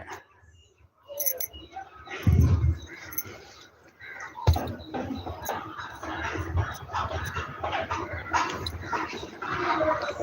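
A puppy whimpers and gives small yips and barks close by, with bursts of handling noise and background sounds throughout.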